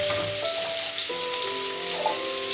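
Vegetable stems dropped into a pan of frying potatoes and pumpkin set off a steady close sizzle that hisses continuously, with no one talking.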